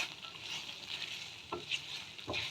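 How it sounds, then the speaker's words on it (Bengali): Prawns added to a frying pan, a faint, steady sizzle with soft stirring scrapes and a couple of brief clinks, close by and quiet. "এইবার দেখো চিংড়ি মাছগুলো আমি এবার দিয়ে দেবো।"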